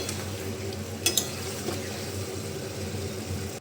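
Potatoes fry with spices in a pan, giving a steady close sizzle broken by a couple of quick scraping stirs.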